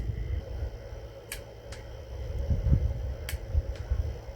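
A torque wrench clicks while tightening engine bolts to 20 foot-pounds during a home engine rebuild, giving a few short, sharp clicks over low background noise.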